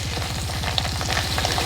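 About 250 grams of fish roe frying in oil, a steady close sizzle with scattered small pops over a low rhythmic throb, no one talking.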